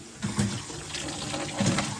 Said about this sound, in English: The hose popped off and water went everywhere.